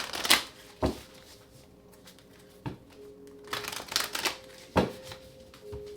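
Tarot cards shuffled by hand in a quiet room, a handful of crisp riffling bursts separated by pauses, close and fairly soft.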